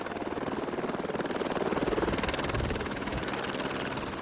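Helicopter flying from Nice toward Monaco along the Mediterranean coast, its rotor thudding in a steady, loud rhythmic beat over a continuous turbine roar, with no voices.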